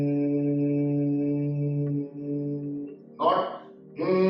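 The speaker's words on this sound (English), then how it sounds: "when you exhale, we are going to produce a humming bee sound like this" A person makes a steady, low humming-bee breath on a long exhale during yoga, a sustained nasal drone of about two seconds that fades out, followed by brief speech.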